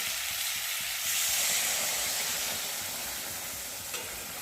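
Prawns frying and being stirred in a pan for chingri malai curry, giving a dense, continuous hissing sizzle that swells briefly and then eases slightly, close and steady, no talking.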